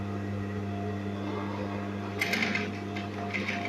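A sewing machine hums steadily as it stitches a denim jeans hem, run slowly to protect the needle, with a brighter burst of stitching clatter toward the end over the constant motor drone.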